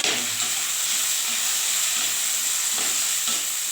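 A pan of ingredients for jeera pulao sizzles loudly and continuously, a bright steady hiss of frying with faint stirring scrapes underneath.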